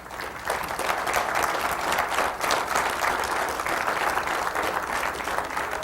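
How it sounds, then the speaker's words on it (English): Audience at a talk on Lemhi Shoshone identity and homeland gives a sustained, even round of applause, a dense wash of clapping from a crowd filling the room. "if you'll give her one more round of applause"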